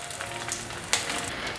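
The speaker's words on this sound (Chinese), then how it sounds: "让它煎定型，等下再来翻动。" King oyster mushroom pieces pan-frying for a vegan tofu dish, a soft close crackle with a few sharper pops over a brief moment, fairly quiet.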